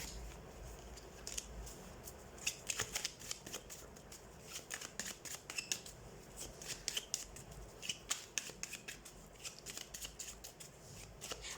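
Tarot cards are shuffled by hand in a quiet room, giving soft papery riffles and flicks in irregular bursts, with sharper snaps clustering in the middle and toward the end.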